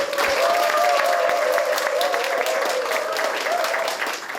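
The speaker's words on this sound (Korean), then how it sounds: "큰 박수로 맞이해 주시기 바랍니다" Audience applause welcoming a Seoul city council member to open a policy forum on arts education, a loud, dense wash of clapping that holds steady throughout, with a tonal hum running beneath it.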